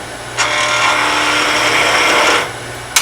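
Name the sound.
skew chisel cutting wood on a lathe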